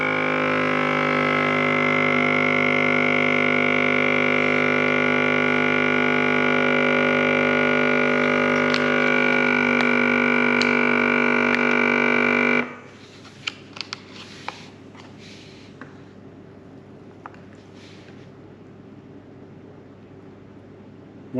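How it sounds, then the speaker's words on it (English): A KickAss 12V and 240V vacuum food sealer on its dry setting pulls air out of a bag of biscuits with a loud, steady motor hum and whine lasting about twelve seconds. It stops abruptly and leaves light clicks and handling sounds. "Hitting the vacuum sealer again."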